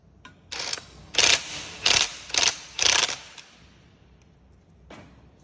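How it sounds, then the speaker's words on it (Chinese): A ratchet loosening screws beside a bicycle's motor gives five short, loud clicking bursts in close succession, then a faint tick a moment later, heard up close with no talking. "先把电机旁边这颗跟这颗螺丝给它松掉"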